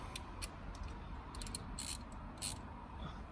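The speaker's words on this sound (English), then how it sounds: "let's get the big ratchet in." A big ratchet turning a Torx bit while working on a Fiat 500 roof during a sunroof repair, giving faint, irregular clicking bursts of the pawl over low background noise, close up.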